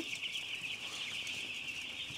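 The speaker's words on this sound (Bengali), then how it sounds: "দেখেন এখানে ছোট্ট ছোট মুরগির বাচ্চা।" A dense, continuous chorus of high chirping from six-day-old broiler chicks crowding a brooding room in winter, with a gas brooder running, holding steady and fairly loud throughout.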